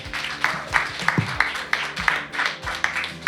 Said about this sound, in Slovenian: Žak Mogel, dajmo en aplavz. Bravo!